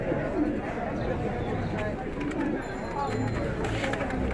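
Pigeons coo and flutter amid a busy pigeon market in Mirpur, with constant crowd chatter and people talking close by over the birds.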